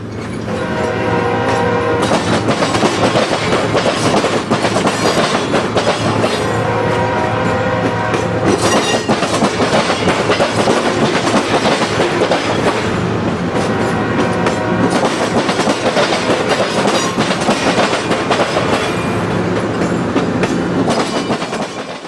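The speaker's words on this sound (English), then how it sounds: "The train, led by a pair of BNSF GEs, crosses Michigan Avenue" A circus freight train led by a pair of BNSF GE locomotives rolls past loudly and continuously, its wheels clattering over the rails with a heavy rumble and sustained horn tones rising above.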